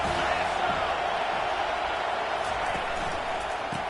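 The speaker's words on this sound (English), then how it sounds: "This crowd trying to show them what it's going to be like all day in this house." A college football stadium crowd roars in a steady, dense wash of cheering that holds level throughout, with a commentator's voice faintly under it.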